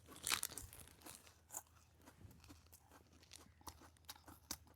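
Someone munching crunchy puffed rice (pori) up close at a temple, with a burst of sharp crunches at the start followed by steady, softer chewing and occasional crisp bites, no talking.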